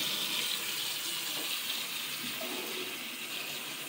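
Tap water runs steadily into a kitchen sink, a continuous close hiss and splash with no talk.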